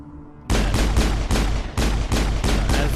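Loud, dense weapon fire from the video game Mass Effect erupts after a brief quiet start, a rapid stream of shots pulsing in short bursts with barely any gaps.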